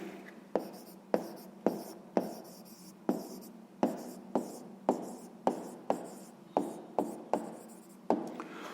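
A pen writing on paper close by, with around fifteen short, evenly spaced strokes in a steady rhythm in a quiet room, each a crisp scratch that quickly fades.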